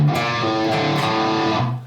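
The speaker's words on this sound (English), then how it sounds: "So our fill sounds like this." A distorted electric guitar plays a short fill from a riff, sustained heavy chords ringing loud and alone for under two seconds before cutting off.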